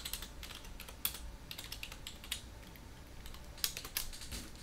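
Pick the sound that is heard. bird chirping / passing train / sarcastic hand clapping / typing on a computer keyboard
typing on a computer keyboard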